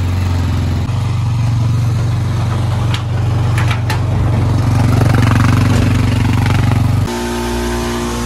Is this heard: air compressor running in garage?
yes